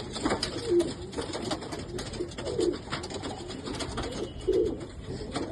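Quiet male pigeon cooing comes in three brief bursts, spaced a couple of seconds apart, over faint steady background noise.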